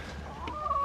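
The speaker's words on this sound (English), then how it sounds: "This rooster is chasing a hen out of the barn." A rooster chasing a hen out of a farm barn, heard as a brief burst of low clucking that ends in a sharper rising squawk, close and moderately loud, lasting under a second.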